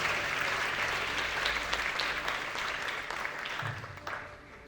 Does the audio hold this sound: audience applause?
yes